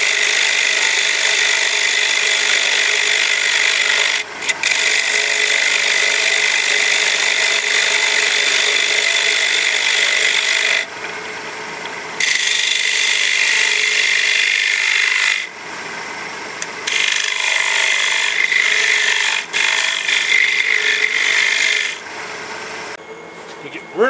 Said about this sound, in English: was simply a matter of sanding it with 120, 150, 180, and now I believe I'm at 220